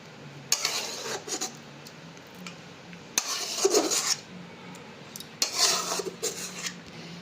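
A spoon scrapes and presses boiled raw green mango pulp through a metal strainer, giving intermittent rasping, scraping bursts with soft clinks against the mesh and bowl, fairly close and moderately quiet.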